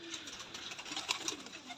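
Dub-breed fancy pigeons coo softly close by, a series of gentle murmuring calls over faint background hiss.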